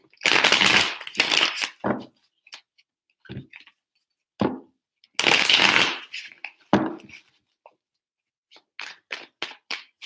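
Tarot cards are shuffled in three quick riffling bursts, crisp and close, separated by pauses with soft handling taps.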